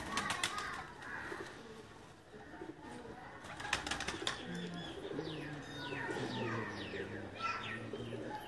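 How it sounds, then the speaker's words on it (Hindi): Pigeons coo in soft, repeated rolling calls, with occasional chirps and wing flaps, fairly faint against a low background and no one speaking over them. "दोस्तों ये जो कबूतर मैं आपको दिखा रहा हूँ"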